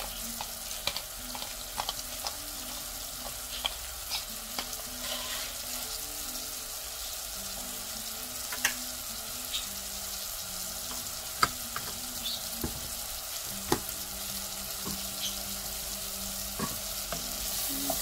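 Onion frying in a pot with pink Himalayan salt and black pepper for butternut squash soup, with a soft steady sizzle and scattered light clicks of a utensil stirring, quiet and without talk.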